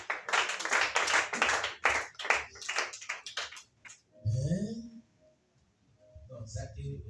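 A church congregation claps together in steady rhythmic bursts during a worship service, with voices calling out over the clapping before it fades into quieter talk.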